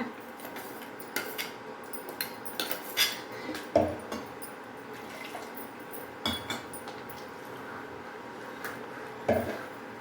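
Ground chili masala going into a pot of drumstick sambar, with scattered clinks of a spoon against a metal pot and soft liquid stirring, quiet and close.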